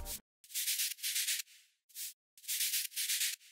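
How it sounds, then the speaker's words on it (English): A white noise layer in an FL Studio future house drop, shaped by volume automation, comes in bright hissing bursts that swell and cut off rhythmically in short gated phrases with gaps between them, alone and fairly close. "The cool thing you can do to enhance the high frequencies and to support the lead is to add a simple white noise"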